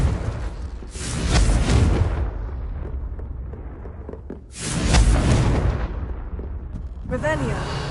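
In the game Hogwarts Legacy, the Confringo spell detonates in two loud, booming explosive bursts a few seconds apart, each with a rumbling tail, and a short whooshing effect closes the sequence.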